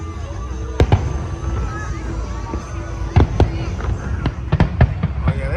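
Fireworks at the WEBN show in Cincinnati go off in scattered loud cracks and booms, some single and some in quick pairs, over a constant murmur of a crowd with people talking nearby.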